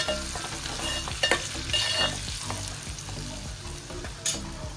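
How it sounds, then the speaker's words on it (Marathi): Masala spices being stirred and fried in a pan, a steady close sizzle broken by scraping stirs and occasional clinks of the spoon. "आता हे मसाले आपण पूर्ण मिक्स करूया।"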